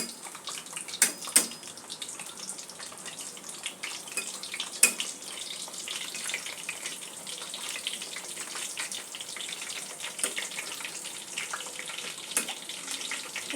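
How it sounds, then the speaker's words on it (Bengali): Chickpea-flour kachori deep-fry one by one in hot oil over a medium flame, a continuous close crackling hiss with scattered sharper pops and a few brief clinks, alone without speech. "কচুরিগুলো এবার এক এক করে ভেজে নেব। ছাঁকা তেলে ভাজতে হবে।"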